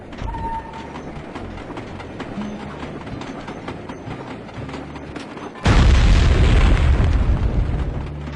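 A train caboose being destroyed in a Sly Cooper game: rattling, clattering train noise runs under music, then a sudden loud explosive blast bursts in and roars on for several seconds.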